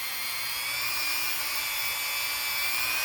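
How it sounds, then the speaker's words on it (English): A grinder with polishing compound works steadily on a stainless steel band of a SKMEI model 1123 digital watch, giving a loud, continuous high whine that holds unbroken throughout, with no speech. "With the grinder, with the goop, just like I'm showing."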